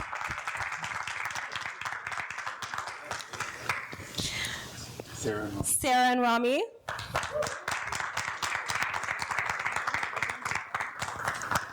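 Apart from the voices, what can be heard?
audience applause for introduced couples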